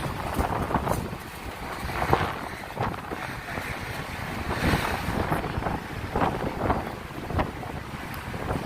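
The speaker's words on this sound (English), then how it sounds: "The wind is pretty strong around here." Strong wind buffets the microphone along Bond Street on Broadway in New York City, a steady broadband roar with gusts swelling and easing throughout, no voices heard.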